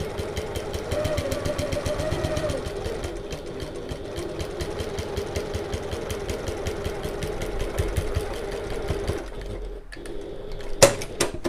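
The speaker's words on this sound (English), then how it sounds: "Just back stitching at the start so that my thread doesn't come unravelled." A sewing machine back stitches the seam of a Midi bag, running in a steady, fast rhythmic chatter up close for most of the stretch, then briefly pausing and clicking near the end.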